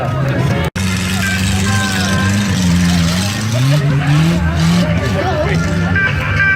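Stock cars race at Saint-Cybardeaux, engines droning and revving loudly in steady tones that rise and fall as they pass, with a crowd babbling and an announcer talking over the noise.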